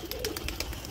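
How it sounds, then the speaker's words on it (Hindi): A pigeon cooing close by in a brief soft series of throaty calls over faint background noise. "कबूतर अपने उतरते हैं प्यार से,"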